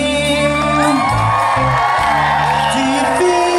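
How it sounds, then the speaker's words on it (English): A concert crowd at a classic rock cover band's outdoor show whoops and screams continuously, loud and sustained over sustained band music. "Let me hear you scream."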